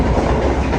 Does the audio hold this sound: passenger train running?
yes